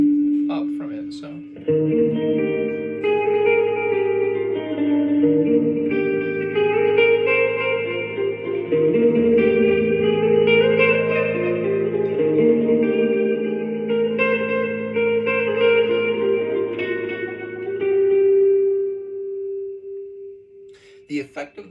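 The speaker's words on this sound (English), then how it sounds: "The effect of the arpeggiating the chord gives with the reverb and the delay, for whatever reason, makes this really cool" An arpeggiated guitar chord rings out through reverb and delay effects, with notes cascading into a sustained, echoing wash that holds steadily for about twenty seconds before fading.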